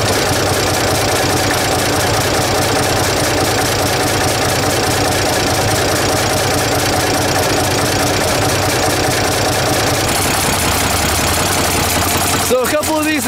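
A 6-cylinder diesel tractor engine with a fuel leak idles loudly and steadily, its injectors ticking in a rapid rhythm, a few louder than the rest, with a brief clatter near the end.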